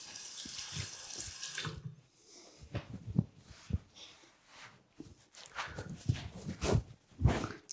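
Water runs from a tap into a sink to rinse alum off after a shave, a loud steady flow at first, then stopping and giving way to scattered splashes, drips and handling sounds.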